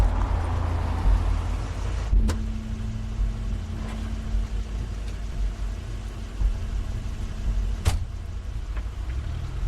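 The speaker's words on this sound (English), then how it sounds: "That's Crane's car." A car arrives in The Wolf Among Us video game: a steady engine rumble throughout, with sharp clicks near the start and near the end and a faint mechanical whine between them, no voices.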